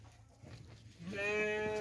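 A ram on a farm in winter lets out one loud, close, drawn-out bleat in the second half, after a stretch of quieter rustling and low background noise.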